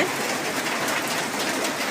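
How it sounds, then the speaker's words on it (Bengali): Heavy rain pours down outside a village home in Bangladesh, a steady dense hiss with no breaks throughout. "বাহিরে অনেক বৃষ্টি নামছে"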